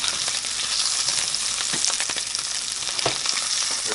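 Canned potatoes frying in a stainless steel pan, a loud continuous sizzle with crackling bursts and a couple of scraping stirs.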